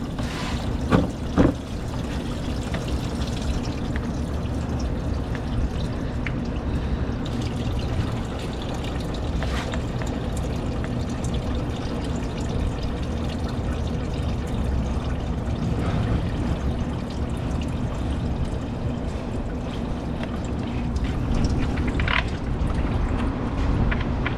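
Leftover coolant draining from a Honda Accord radiator drain into a catch can during a radiator replacement, a continuous close trickling and splashing of liquid with occasional knocks, no talking.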